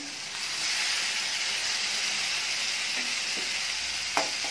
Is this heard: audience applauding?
no